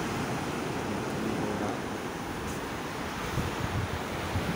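Waves washing onto a seaweed-covered beach: a dense, continuous rush of surf mixed with gusty wind buffeting the microphone, fairly close, with no speech.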